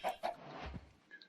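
Chickens in Minecraft, with a baby chick just bred from two fed adults: a couple of short, fairly loud clucks at the start, followed by softer game sounds and a brief high chirp near the end.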